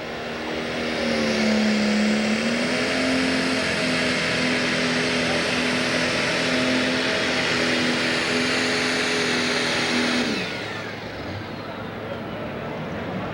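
Pro Stock pulling tractor engine roaring at a sustained loud pitch as it drags the sled with its wheels spinning, a steady high drone that drops off sharply near the end, with crowd and background noise beneath.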